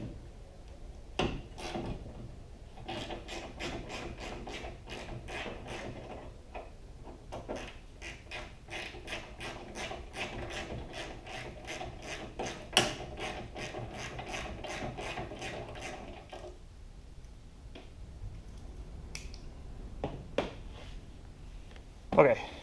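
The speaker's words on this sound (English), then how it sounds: "we're gonna be removing the nut from the top part of the hood hinge" A hand ratchet loosens the nut on the upper hood hinge of a Nissan 350Z, rapid rhythmic clicking in long runs between short pauses, close up, with scattered metallic clunks and a few faint bits of speech.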